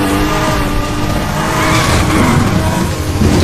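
A fast car in the racing game Need For Speed: The Run drifts through a corner, its tires squealing and skidding in a loud, continuous wash over a roaring engine.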